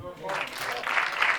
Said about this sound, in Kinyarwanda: mwayihaye amashyi